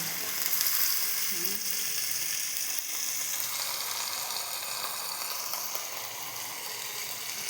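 Onion, ginger-garlic paste, cumin, chili and turmeric frying in a pan give a loud, steady, close sizzle that runs unbroken throughout, with no one talking.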